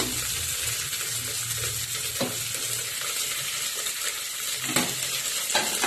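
Potatoes, cabbage and beans frying in a pan for a chickpea dal with vegetables, stirred steadily: a constant close sizzle with occasional scraping of the spoon against the pan, no talking.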